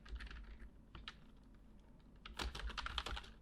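Computer keyboard typing out HTML code, a quiet run of soft key clicks at an uneven pace that grows busier and a little louder toward the end, with no one talking.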